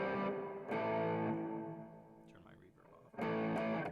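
Electric guitar played through a basic overdrive pedal with the reverb switched off, sounding two loud, thick distorted chords that ring for under a second each, with a quieter stretch between them where a voice may briefly be heard.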